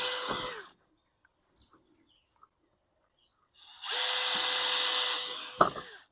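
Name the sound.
power drill drilling holes for chick brooder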